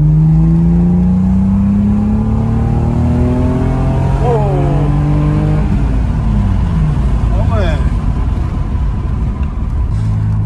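Toyota Supra MkIII engine revving and accelerating through a bend, rising harmonic sweeps continuous and loud from inside the car, with people talking over it.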